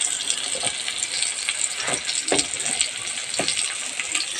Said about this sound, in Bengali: এটা এখন ভাজা হতে থাক।